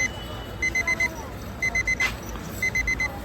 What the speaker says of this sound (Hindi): भैया की दुकान पर मैंने अलार्म पसंद आया।